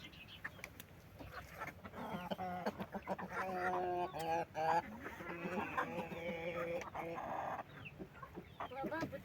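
Chickens and roosters in a farmyard flock that includes blue hens, cluck and call continuously in a dense, overlapping chorus with loud crowing bursts, close by, while a person talks in between.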